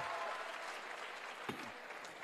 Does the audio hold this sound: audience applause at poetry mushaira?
yes